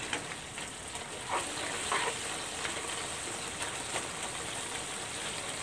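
Vegetables simmering in coconut milk in a pan as the first coconut milk cooks down, giving a steady soft bubbling sizzle with faint crackles, continuous and moderately quiet, with no voices.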